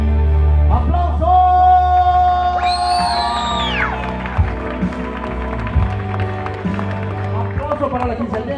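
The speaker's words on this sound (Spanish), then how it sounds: "¡Aplausos para la quinceañera y su papá!" A crowd at a quinceañera whoops, cheers and claps for the birthday girl and her father, with loud voices and shouts over a lively, busy backdrop.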